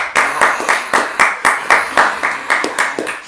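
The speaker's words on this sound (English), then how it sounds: "Let's give him a round of applause" Hands clap in an even, quick rhythm for a podcast guest, about a dozen crisp, close claps in a few seconds, more like a small group or one person than a large crowd.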